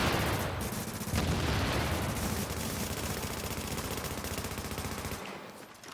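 Sustained rapid automatic gunfire in The Division, a dense rattling burst that runs for several seconds at close range and cuts off abruptly near the end.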